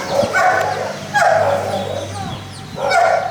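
Chickens kept on a dog farm in Rohtak give a few loud clucking and squawking bursts close by, with dogs nearby and no talk.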